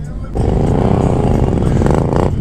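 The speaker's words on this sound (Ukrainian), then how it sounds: "Ой, газують вже всі, колона потрошки збирається" Motorcycles gather in a column at the Kyiv motorcycle season opening, engines rumbling loudly and revving up after a brief quieter start, with riders talking over the noise.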